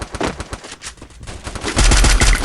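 Rapid video game gunfire crackles through the whole stretch, with dense bursts of shots that grow louder and heavier near the end, with no talk over it.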